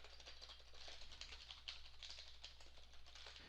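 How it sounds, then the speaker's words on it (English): Keyboard typing picked up by a USB wired headset microphone, a soft, continuous patter of quick key taps, faint and slightly muffled, with a low steady hum underneath. "If you were typing on a keyboard, this is what it would sound like."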